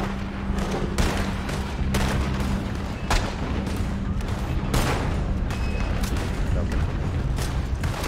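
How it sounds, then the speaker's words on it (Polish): Gunshots in Red Dead Online, a dense run of heavy booming shots and fusillade-like bursts over a constant low rumble, with a voice talking beneath them. "Strzelają!"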